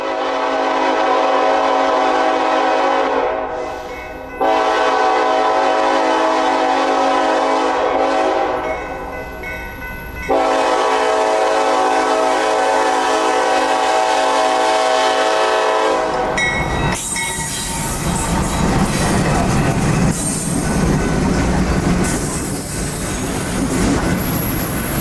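A CSX intermodal freight train rolls past close by with a loud, sustained horn blast, then rumbling wagons, squealing wheels and rhythmic clickety-clack, all very loud and without talk.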